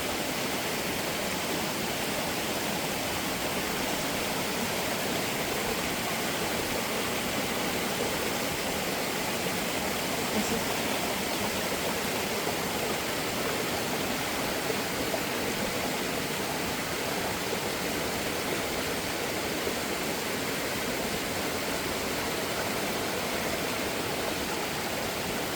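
A mountain torrent rushes steadily, its dense, unbroken roar of churning water filling the air close by for the whole stretch, with no voices.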